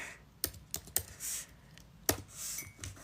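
Keys tapped on a computer keyboard in short clicky bursts, a few separate strokes then a quick cluster, close and fairly soft with quiet gaps and no talking.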